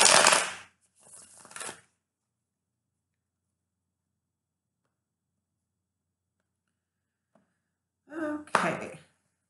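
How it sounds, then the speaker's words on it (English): Two quick bursts of tarot cards being shuffled, then a long silence before another brief flurry of card handling noise close by. "here's the last shuffle"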